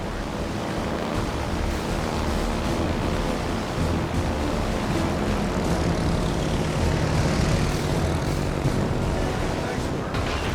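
In the warship game World of Warships: Legends, a fighter aircraft launches with a continuous roaring engine rush over a broad wash of sea noise. Game voices speak briefly.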